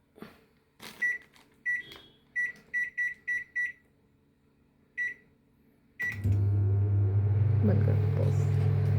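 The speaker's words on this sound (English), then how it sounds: "So now we will microwave it for 1 minute." A microwave oven cooking a chocolate lava cupcake: a string of keypad beeps as it is set, then the loud steady hum of the running oven, with a voice at the start.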